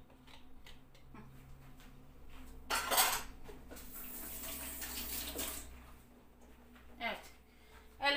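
Dough ingredients, including yogurt and yeast, are stirred together in a bowl, giving repeated clinks and scrapes of a utensil against the dish with a few louder wet sloshing bursts, fairly close and moderately loud.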